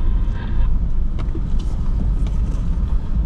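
An all-wheel-drive vehicle's engine labours up a steep off-road hill, giving a steady, close, heavy low rumble that holds at one level throughout, with faint rattles riding over it.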